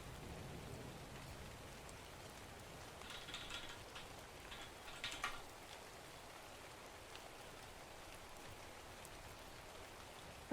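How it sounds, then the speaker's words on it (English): Steady rain falls in an even, close hiss, with a few sharper drops and patters standing out partway through. No voices are heard. "can you hear the rain? Can you guys hear the rain?"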